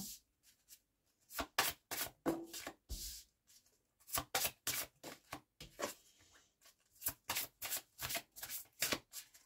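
Tarot cards shuffled for a reading, a quick run of crisp riffling bursts and flicks in uneven clusters, close and fairly quiet, with no talking.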